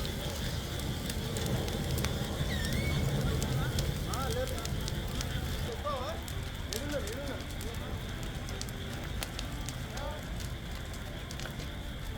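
A private travel bus burns after colliding with a container lorry on the highway near Nandyal: a steady, dense crackling roar of fire with scattered faint background voices throughout.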